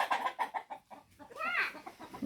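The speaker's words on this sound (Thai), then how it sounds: "ไก่ตกใจหมดเลย" Startled chickens cluck in a rapid, agitated series of squawks, close and fairly loud, with several overlapping birds on a farm.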